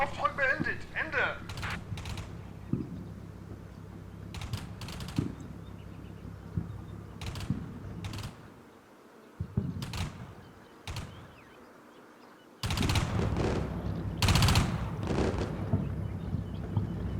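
Howitzer shells and gunfire in the Combat Mission Shock Force NATO war game, heard as scattered sharp bursts and distant booms against a low rumble, with quieter gaps between volleys and a heavy cluster of shots near the end.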